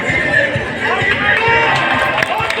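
Dense crowd noise in a stadium, a continuous roar of clapping and chatter from many people, loud and sustained throughout.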